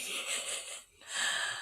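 A dog snoring close by, with two long, wheezy, breathy snores separated by a brief pause.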